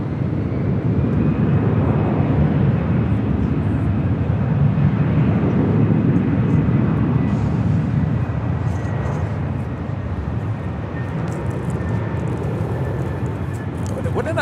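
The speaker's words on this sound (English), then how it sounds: "That is Turkish Airlines 179 coming in from Istanbul on a 787-9 Dreamliner." A Turkish Airlines Boeing 787-9 Dreamliner arriving at LAX from Istanbul, a loud, broad jet roar that stays strong and then eases slightly toward the end, with faint radio-style voices underneath.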